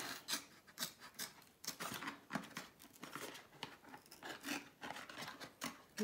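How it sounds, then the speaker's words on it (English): Scissors cutting through a Tetra Pak carton while shaping a purse, giving a run of close, crisp snips and crinkling rustles in an uneven rhythm, with no talking. "And then being careful with the scissors, just cut that out."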